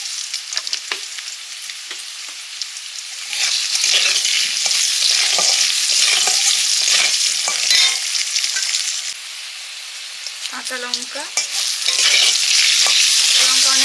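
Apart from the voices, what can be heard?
potatoes frying and being stirred in a pan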